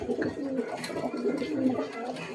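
Bloodline pigeons in a Kolkata loft coo in a steady, overlapping chorus of soft, low, throaty calls heard up close, with no talking.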